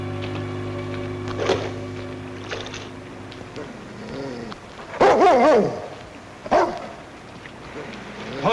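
A large dog barks in a Yukon gold-panning setting, several loud sharp barks in bursts over a low droning background, with a voice talking in between.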